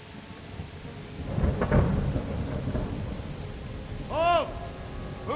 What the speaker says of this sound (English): and then the storm started